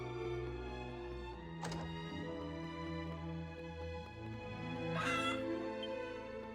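In the video game Dragon Quest 7 Reimagined, a cat meows amid steady, sustained background music. The cries are short and fairly faint, with one rising call near the end.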